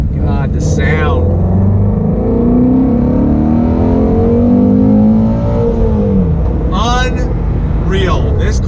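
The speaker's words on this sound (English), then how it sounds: "A V8 and a Mustang is not supposed to sound like that." A Ford Shelby GT350 Mustang V8 revs loudly and close, its note climbing and falling through the middle stretch. Someone talks briefly before and after the rev.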